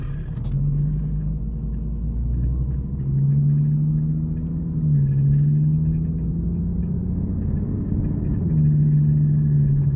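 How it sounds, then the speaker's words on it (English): A Nissan 370Z with an automatic transmission, just after a fluid change, on a test drive: a steady interior engine drone with low rumble, pitch rising and dropping through gear changes, continuous and fairly loud. "All right, now let's go and test drive it."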